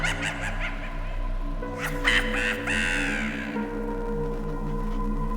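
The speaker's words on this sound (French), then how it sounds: "envoya une volée de corbeaux voler dans toutes les directions" Crows caw in a forest. One harsh, loud cawing burst rises midway over a steady low background hum, then fades, and no one speaks.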